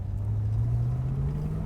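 A 1965 Ford Mustang convertible drives along, its engine giving a loud, steady low rumble with a slowly rising pitch, close by and without talk.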